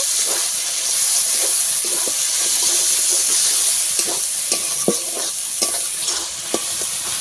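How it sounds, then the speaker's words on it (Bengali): Chilli and turmeric spice paste fries in hot oil with a loud, steady sizzle and hiss, while a spatula stirs it with repeated scraping clacks up close. "এবার মশলাটা ভালো করে আমি কষিয়ে নেবো তেল ছাড়া পর্যন্ত"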